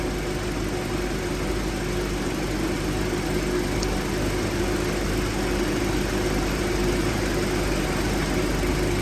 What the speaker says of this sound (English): You can hear the compressors on